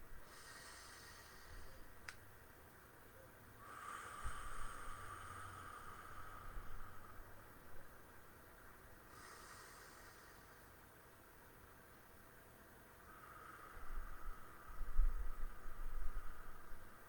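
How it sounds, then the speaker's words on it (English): Slow, deep human breaths in a quiet room: a few long, soft inhales and exhales spaced several seconds apart, faint and close with a low steady hiss underneath. "We'll start with 3 good, solid, deep breaths."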